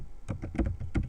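Keystrokes on a computer keyboard during code editing, a quick irregular run of about eight close, crisp clicks and taps in a short burst with no talk.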